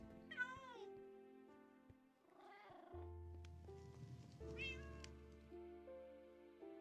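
Cartoonish cat meows ring out over a steady electronic game soundtrack, several meows rising and falling in pitch, clear and close, in the video game Aquatic Survive: Crash!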